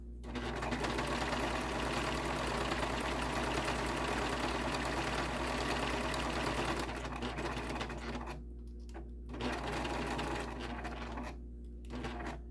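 A domestic sewing machine runs steadily while stitching thick cotton canvas, with a continuous motor whir and rapid needle rattle, pausing briefly twice near the end before starting again.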